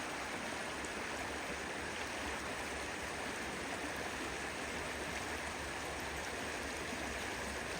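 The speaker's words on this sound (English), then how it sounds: "This is the Tobacco River." Tobacco River flowing through trees, a steady, even rush of stream water with constant bubbling texture, close and unbroken, no voices.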